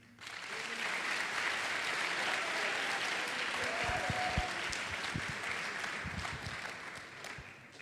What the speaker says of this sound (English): We can all give the candidates a round of applause.